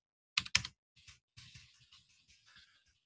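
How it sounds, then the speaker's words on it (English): A computer keyboard is typed on up close: two sharp keystrokes, then a quieter run of lighter key taps in an uneven rhythm against a silent background. "So now let's type y."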